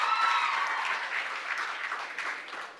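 An audience at a regional oratory competition breaks into strong applause that starts loud and gradually thins, many hands clapping together, with a brief whistle or cheer at the start.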